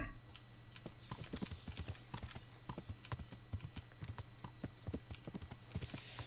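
Horse hooves clip-clop in a video game, a steady run of sharp close clops over a low constant hum.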